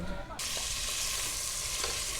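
Prawns fry in a hot pan with a loud, steady sizzle that bursts in suddenly and carries on unbroken, close up, with faint stirring beneath.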